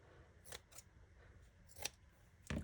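Scissors snip through Halloween cobweb material in a few quick, quiet cuts spaced apart, close up in a quiet room with no talk.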